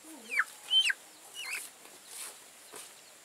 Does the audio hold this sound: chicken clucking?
yes